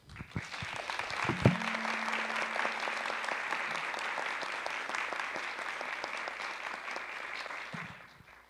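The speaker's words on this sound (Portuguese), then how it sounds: "vou sugerir que nós batamos palmas para vocês dois" Guests applaud at a wedding ceremony for the couple Giovana and Anderson, a steady wash of clapping that swells quickly and holds for about eight seconds before cutting off, with a brief tonal sound near the start.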